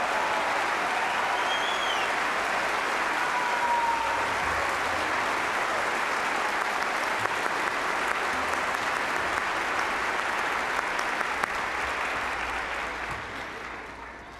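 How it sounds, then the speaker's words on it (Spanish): Loud, sustained audience applause at a children's concert by the UNAM Philharmonic Orchestra, a dense wash of many hands clapping that holds steady for the whole stretch and tapers slightly at the end. "¡Fuerte aplauso!"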